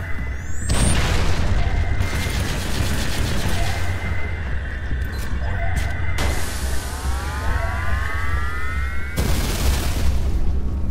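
A jammer being destroyed in the video game Halo Reach sets off loud, deep explosion booms that roll steadily across the clip, with sharp bursts and falling whistles layered over a constant low rumble.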